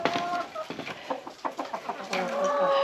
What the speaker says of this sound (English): Here come the chickens.